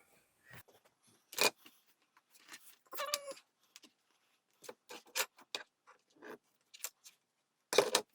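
Scissors snipping through fabric to make a DIY face mask: a series of short, crisp cuts at an irregular pace, close by and fairly quiet, with gaps of silence between them.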